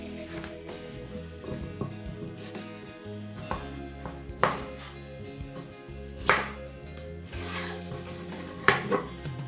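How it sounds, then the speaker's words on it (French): A knife chops a vegetable into cubes on a board for steaming, giving a few sharp, fairly close cuts spaced a couple of seconds apart over a steady low background hum. "Donc je vais le couper en carré comme ça"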